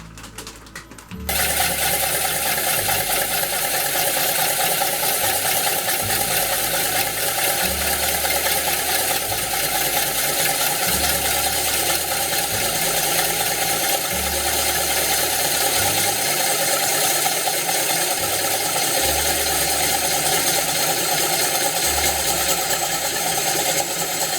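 Woodturning lathe making light cuts on a 17-inch endgrain cedar bowl blank, a loud steady machine drone with a rhythmic low thumping as the out-of-true blank turns, continuous for the whole stretch.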